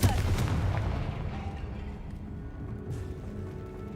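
Fiery Confringo spell blasts in the Hogwarts Legacy video game, a booming low explosion at the start followed by a sustained rumbling roar with dense crackle that slowly fades over several seconds.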